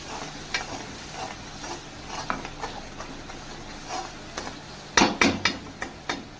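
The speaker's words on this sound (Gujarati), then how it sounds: "અને 5-10 મિનિટ સુધી આને હું આમ સાતળવા દઈશ, જ્યાં લગી તેલ છૂટું ના પડી જાય ત્યાં સુધી." Onion masala sautéing in oil in a pan for a restaurant-style cashew curry, a soft steady sizzle with stirring and sharper spoon-on-pan clatters near the end, close and moderately loud.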